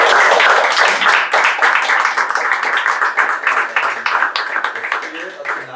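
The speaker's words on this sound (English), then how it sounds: "I want to actually give a round of applause and a thank you to the executives." Audience applause for executives at a hard-tech builders' community event, dense steady clapping filling the clip, loud and close, with speech mixed in.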